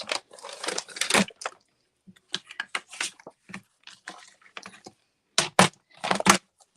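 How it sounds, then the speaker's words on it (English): Crisp, intermittent snipping and rustling of a basic white sheet of paper being cut to size, coming in irregular close bursts with short pauses between strokes. "I'm going to actually cut it to size first"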